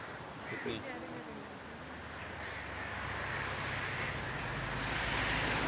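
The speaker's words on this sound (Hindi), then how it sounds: "बहता और शोर मचाता हुआ दरिया, हल्की हल्की ठंड और साथ में चिड़ियों का और बाकी परिंदों का शोर कानों को" Birds call from near a rushing river in Kashmir, including a few crow caws early on, over a broad, steady roar of flowing water that grows louder toward the end.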